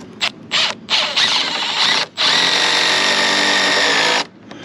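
Milwaukee M12 Surge impact driver sinking 3-inch screws: several short whirring bursts, then one long continuous drive lasting about two seconds, loud and close with no speech.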